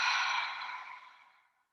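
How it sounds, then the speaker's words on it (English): A long, slow breath out during a stretching exercise for hands, legs and feet, airy and soft, fading steadily over under two seconds, close and alone. "and exhale"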